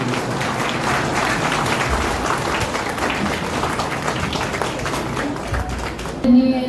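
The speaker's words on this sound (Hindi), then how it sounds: "जोरदार तालियों से" An audience at a farewell ceremony for a sub-divisional officer in Sasaram claps loudly and steadily for several seconds, a dense indoor applause with a brief thump near the end and faint voices mixed in.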